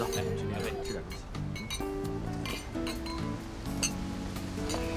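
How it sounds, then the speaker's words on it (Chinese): Glasses clink together in a toast at an evening gathering, several bright chimes scattered over steady music and people talking nearby. "来来来，走，来去干杯"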